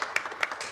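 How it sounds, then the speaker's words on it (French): A small audience gives a few sparse, separate hand claps, about three sharp claps in quick succession, close and clear. "Voilà, il y a des petits applaudissements."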